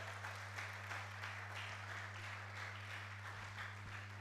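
Applause from the audience at a distinguished alumni lecture, soft and somewhat distant, a continuous patter of clapping over a steady low electrical hum.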